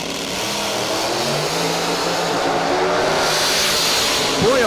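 Drag racing cars including a Mustang launch down the strip at a drag racing event, a continuous distant roar of engines that builds toward the end, with a rising whine at the close.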